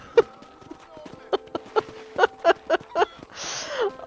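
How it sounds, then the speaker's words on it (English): Horse hooves in Red Dead Redemption clip-clop in a steady series of close, distinct strikes, with a voice speaking over them and a brief rush of noise near the end. "I can do tricks on my horse"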